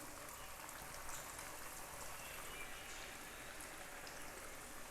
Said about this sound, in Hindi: अब ये ऑयल ले लिया मैंने, ये गरम हुआ हुआ है, इसके अंदर ये डाल देंगे।